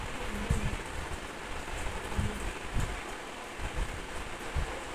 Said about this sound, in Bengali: বৃষ্টি হচ্ছে, অনেকদিন পর বৃষ্টি হলো এখানে।